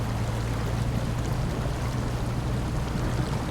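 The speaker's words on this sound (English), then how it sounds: "This is a pretty weak water crossing." A truck in SnowRunner fords a shallow, gravel-bottomed water crossing, giving a continuous rushing, sloshing wash of water over a steady low engine drone, even and unbroken throughout.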